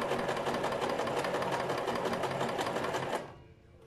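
An Empisal Expression sewing machine runs steadily while stitching decorative twin-needle stitches, a fast continuous mechanical whir that stops abruptly near the end.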